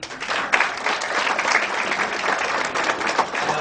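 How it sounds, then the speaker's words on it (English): Audience applause at a talk on understanding China, a dense steady wash of many hands clapping for nearly four seconds without a break, moderately loud and with no speech over it. "I would like to clap for the audience."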